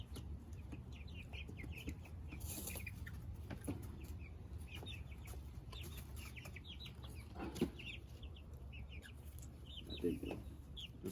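Half-grown chicks clucking and peeping in scattered short calls over a steady low background rumble, with a couple of slightly louder calls near the end.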